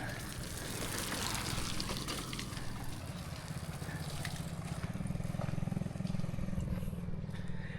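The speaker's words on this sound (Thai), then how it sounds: "นี่เป็นน้ำตก" A waterfall near a village beside a campground in Doi Inthanon National Park, a continuous rushing wash of water heard from a middle distance at low level, steady with slight swells.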